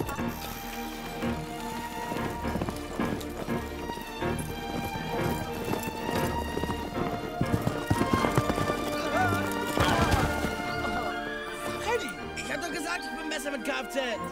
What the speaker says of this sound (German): du musst dein Pferd auch ein bisschen anspornen, damit es rennt